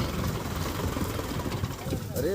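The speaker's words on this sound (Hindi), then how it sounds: "तीसरे का लो गियर और 1200 RPM पर ट्रैक्टर को टेस्ट करते हैं।" A Sonalika tractor engine runs under load in third low gear at about 1200 RPM while ploughing hard ground, a loud, rough, steady diesel rumble close by with a voice talking over it.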